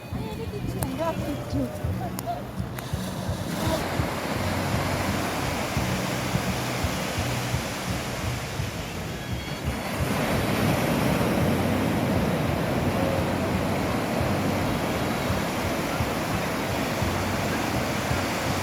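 Sea waves wash onto Cox's Bazar beach at night under a full moon as the tide comes in, a continuous broad roar of surf that swells louder midway, with people talking over it.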